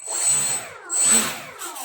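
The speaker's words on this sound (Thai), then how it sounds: "มอเตอร์ทำงานปกตินะครับ" A small electric motor on a repaired RC seaplane that had crashed whines up in two short, high-pitched bursts close by, easing down briefly between them.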